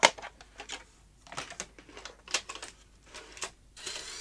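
A Sony J-30 Digital Betacam player takes in a tape with a series of quiet mechanical clicks, ticks and whirring bursts from its transport, irregular and close, with no voices.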